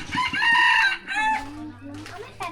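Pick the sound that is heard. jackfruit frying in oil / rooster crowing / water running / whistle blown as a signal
rooster crowing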